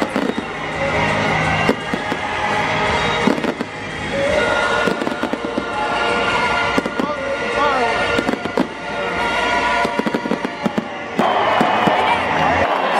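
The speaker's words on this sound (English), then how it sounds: "Friday night fireworks here at Dodger Stadium." Fireworks bursting at Dodger Stadium in irregular cracks and booms over a continuous crowd roar, with scattered cheering and voices throughout.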